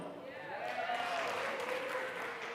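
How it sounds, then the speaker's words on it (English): An audience claps steadily to approve a hairstyle choice, a dense wash of hands lasting a couple of seconds with a voice over it. "Everyone claps for this and the middle one."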